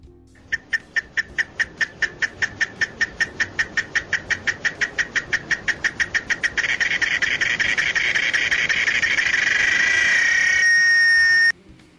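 A cicada sings nearby, starting with a rapid series of sharp rhythmic pulses that speed up and merge into a loud continuous buzzing drone before it stops abruptly near the end.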